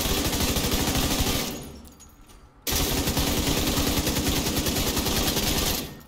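Sustained LMG fire in The Division 2, a fast rapid-fire stream of shots that cuts off for about a second before resuming at full loudness and then fading out near the end.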